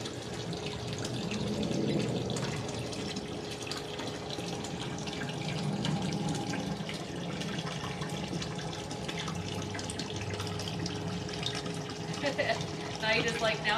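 A boat's bilge pump pushes water out steadily over a low running hum, with continuous splashing and gushing flow and people talking now and then.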